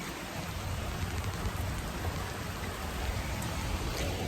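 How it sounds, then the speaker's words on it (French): Heavy rain pours outside in a dense, steady hiss that fills the whole stretch, loud and unbroken with no voices over it. "Il pleut des cordes"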